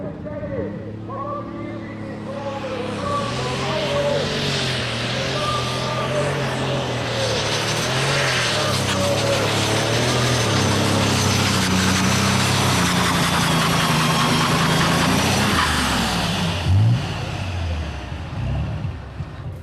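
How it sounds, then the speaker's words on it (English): An alcohol-fuelled pulling tractor engine roars at a 1994 tractor pull, building to a loud, sustained drone that passes close and then fades, with a commentator talking over it. "These alky burners have a clean exhaust and very different running characteristics."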